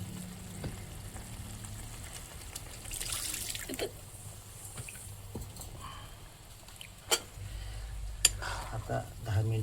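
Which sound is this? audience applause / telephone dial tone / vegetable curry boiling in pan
vegetable curry boiling in pan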